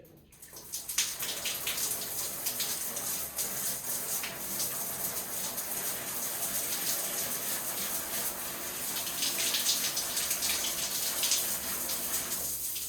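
Water streams steadily from an electric shower with a newly installed heating element, running on its hottest winter setting during a test, a close, continuous splashing gush that continues evenly to the end.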